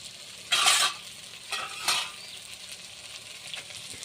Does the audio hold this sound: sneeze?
no